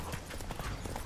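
Hooves of Geralt's horse Roach clip-clopping in the video game The Witcher 3, a quick, faint, rhythmic run of hoofbeats over a brief stretch, with no speech.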